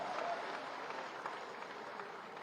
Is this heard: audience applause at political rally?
yes